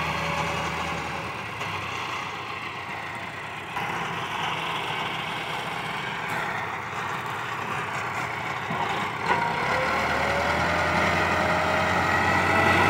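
Massey Ferguson 375 tractor pulling a three-tine chisel plough, a steady heavy diesel drone held at constant load throughout, close and loud with no talk.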